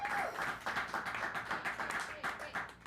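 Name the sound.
round of applause, clapping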